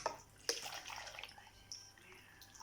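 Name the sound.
water being poured for blending juice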